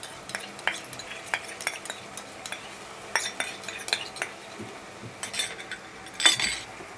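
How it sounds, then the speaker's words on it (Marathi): Onion with ginger-garlic paste being sautéed in oil for pav bhaji: a spoon repeatedly scrapes and knocks against the pan at a steady, uneven rhythm over a low sizzle, with one louder clatter near the end. "ती कांद्यासोबत परतून घेऊया."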